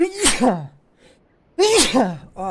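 Two loud close sneezes, one at the start and another after a short pause, with a brief spoken word in between.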